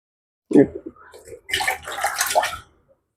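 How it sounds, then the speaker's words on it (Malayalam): Water is poured slowly into a home aquarium, a loud splashing gush that starts abruptly, breaks briefly, then resumes steadily for about a second before stopping. "നമുക്ക് പതുക്കെ ഇതിലേക്ക് വെള്ളം ഒഴിച്ചു കൊടുക്കുക"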